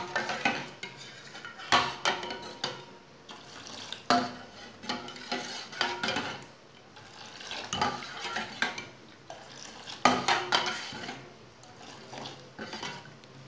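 Milk is stirred into tea in a pot, giving repeated metallic clinks and scraping strokes of a spoon against the vessel in an uneven rhythm, close and clear, with no speech.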